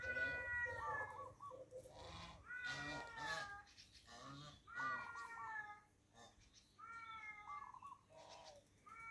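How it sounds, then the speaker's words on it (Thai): A jungle cat calls repeatedly in drawn-out, tonal yowls, several phrases with short pauses, fairly close and clear, with faint background noise. "เสียงแมวพงก็มี"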